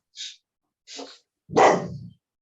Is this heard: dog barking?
yes